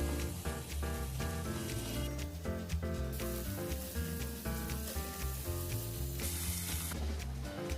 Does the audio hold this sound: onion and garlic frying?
yes